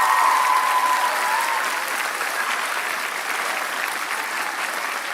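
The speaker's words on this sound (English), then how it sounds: "Could we give a round of applause to them?" Sustained applause from a large audience at a children's honor choir performance, steady clapping that fades slightly over several seconds, with a brief voice at the start.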